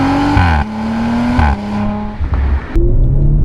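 Car engine and exhaust with a deep, throaty bass note, heard close and loud as it revs and shifts pitch in several steps, with no talking.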